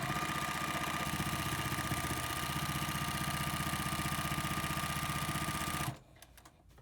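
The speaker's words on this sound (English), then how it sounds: "So I'm just going to stitch a few inches at a time" A sewing machine with a regular piecing foot runs steadily, stitching binding onto a quilt in one continuous close, loud whir that stops abruptly near the end.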